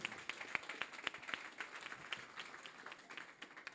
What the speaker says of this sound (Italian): Un applauso a Matteo Fabro